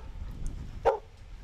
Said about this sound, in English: The dogs in this hole is really what people remember this hole by, with them barking the whole time we're there on that tee like they are.